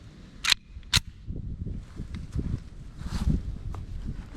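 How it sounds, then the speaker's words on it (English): A magazine is swapped on a CZ 52 pistol: two crisp metallic clicks come close together near the start, followed by faint shuffling and handling noise outdoors. "So I'll cycle back here real quick, just grab another mag."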